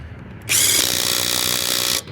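A Hyper Tough 12V brushless impact driver working on car lug nuts, a loud continuous buzzing whir running about one and a half seconds close by, then stopping abruptly.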